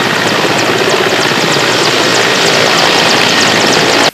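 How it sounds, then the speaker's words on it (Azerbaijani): A military helicopter carrying wounded soldiers roars close and loud, its rotor and engine a steady, unbroken drone that cuts off abruptly at the end. "yaralı əsgərlərimiz helikopterlərlə paytaxta yola salınıb"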